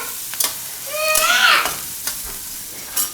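Onions cooking in a pan for rotli Manchurian, a soft sizzle broken by several crisp stirring scrapes and a brief rising squeak of the utensil on the pan.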